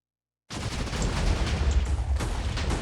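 Missile impact explosions in the ICBM Classic video game start abruptly after a short silence and continue as a dense, rumbling barrage of overlapping booms and crackling blasts, steady and loud throughout.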